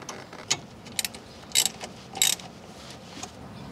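Ratchet clicks while tightening bolts on the rear strut assembly of a 2003 Toyota Camry, coming in a few short, separate bursts, close and fairly quiet, with no talking.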